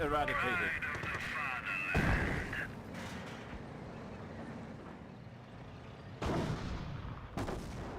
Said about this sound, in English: Pershing firing away